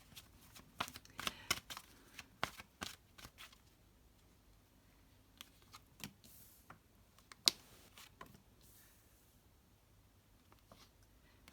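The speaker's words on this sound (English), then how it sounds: "I was shuffling the cards" Tarot cards being shuffled by hand, a quiet run of crisp riffling snaps and soft slides, bunched in spurts with pauses between, close and alone.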